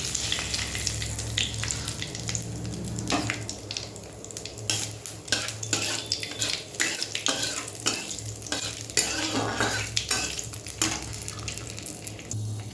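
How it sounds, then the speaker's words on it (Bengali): Black cumin seeds and a bay leaf sizzle in hot oil in a pan, a steady crackling fry broken by repeated scraping clinks of a spoon stirring against the pan. "এই দেখো তেল গরম হয়ে গেছে, কালো জিরে ফোড়ন দিলাম"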